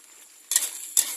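Canned fish tipped into a hot pan for stir-fried basil, giving two sudden sizzling hisses about half a second apart over a quiet background, each fading into a steady crackle.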